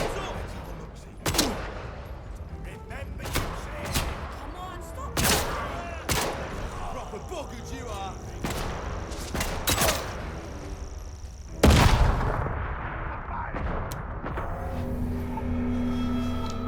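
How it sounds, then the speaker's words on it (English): Scattered gunshots in the post-apocalyptic game Atomfall ring out as sharp single cracks and short bursts spread across the stretch, fairly close and loud, with a heavier boom near the end and a low rumble after. "Wait, why'd you start shooting at me?"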